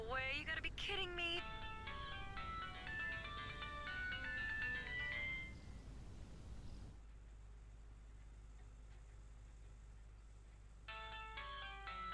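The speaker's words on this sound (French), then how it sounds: "Ah, c'est son téléphone à elle." A phone ringtone chimes in the video game American Arcadia, a bright repeating melodic tone that plays loudly for several seconds, drops away amid low background hum, then returns near the end.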